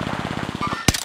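Automatic machine gun fire in a Vanguard battle royale quads match, with a rapid, steady burst of evenly spaced shots and a louder, sharper gunshot near the end.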